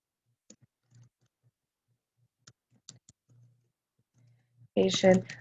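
A few faint, isolated clicks from a computer keyboard being typed on sit in near silence, followed by a short burst of a voice speaking.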